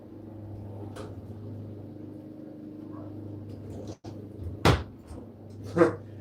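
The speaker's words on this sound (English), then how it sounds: "the neighbor dog's going to start barking" Two short, sharp dog barks ring out a moment apart, over a low steady hum in a quiet room.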